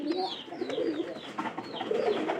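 Pigeon chicks cooing, with soft low coos repeating steadily and close by, plus a few higher call notes and no talk.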